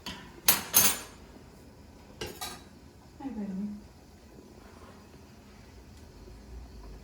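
A metal lid clatters onto a cooking pot of capsicum potato curry in a home kitchen, two sharp clanks followed by a lighter clink, then a short scraping sound and quiet room tone.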